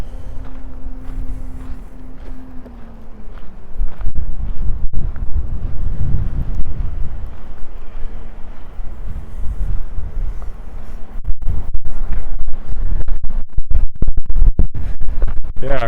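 Wind buffets the microphone on a walk through downtown Regina, a continuous loud low rumble with scratchy gusts that strengthen toward the end, and no talk.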